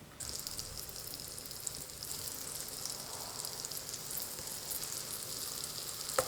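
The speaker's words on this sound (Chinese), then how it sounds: "电饼铛提前预热，刷少许的底油，油热后放入生坯" Dough rounds sizzle steadily on a preheated, lightly oiled electric griddle, a continuous close frying hiss with no talk.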